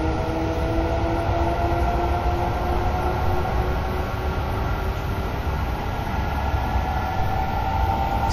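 Steady, loud rumble of a TGV high-speed train passing at top speed, with low mechanical roar and faint tonal hum, continuous throughout without voices.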